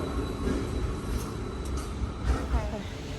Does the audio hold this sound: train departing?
yes